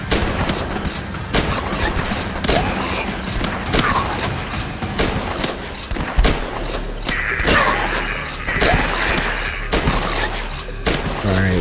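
AK rifle fire in The Last Stand, a flash zombie shooter: sharp repeated shots in irregular bursts and single cracks, loud and close, spread across the whole stretch amid other game clatter.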